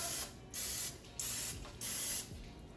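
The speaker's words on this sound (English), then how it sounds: "pull out my muffin pan and my cooking oil and just spray them out" Four short hissing bursts of cooking oil spray onto a muffin pan come close together with brief gaps between them, and a faint metallic clink sounds underneath.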